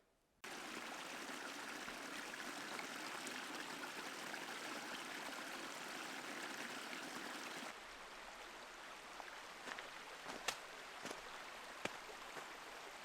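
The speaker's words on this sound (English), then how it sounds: "Creek from up here comes down and is just flowing pretty much straight up the trail." A creek runs straight down a hiking trail on Old Loggers Path in spring, giving a steady, close rushing and trickling of water over about thirteen seconds. A few faint clicks and taps sit on top toward the end, with no voices.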